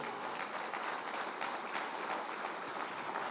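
A church congregation applauds steadily, dense clapping filling the space without pause and no voices standing out.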